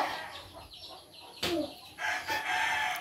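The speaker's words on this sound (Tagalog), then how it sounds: "yung manok namin pumasok na." Chicken clucking nearby at a shop, a few loud, harsh squawks and clucks in quick bursts, the strongest near the middle and at the end, over a faint background hiss.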